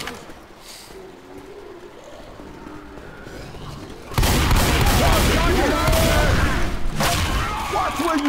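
Heavy bursts of gunfire in the zombie shooter Left 4 Dead 2, quiet at first and then loud, dense and continuous from midway on, with occasional voices mixed in.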